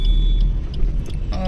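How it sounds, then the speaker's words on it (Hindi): Heavy road traffic in the rain, with a loud, continuous low rumble of passing cars and a few brief higher tones over the wash of vehicle noise. "बारिश हो रही है और ट्रैफिक बहुत ज़्यादा है, बहुत ज़्यादा।"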